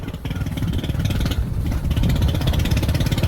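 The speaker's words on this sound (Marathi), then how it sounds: "आपलं ट्रॅक्टर घेऊन चाललोय" A tractor engine chugs loudly and close by, a rough rapid low-pitched thrum running steadily without pause.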